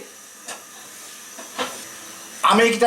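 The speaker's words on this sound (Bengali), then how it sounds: "এখন চুলাটা জ্বালায় দিই।" A stove is lit for cooking fish in a home kitchen, heard as a few short hissing bursts of gas ignition, with a louder rushing whoosh near the end and a voice briefly in the background.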